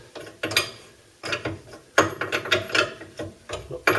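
A spanner winds a nut off the top front ball joint of a T3/T25 Volkswagen bus, giving bursts of close ratcheting clicks and metallic turning in short uneven runs.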